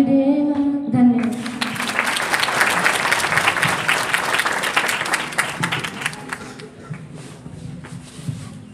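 Applause at a Republic Day 2021 school function: after a brief sung note, a large audience breaks into dense, loud clapping that peaks and then slowly thins out into scattered claps.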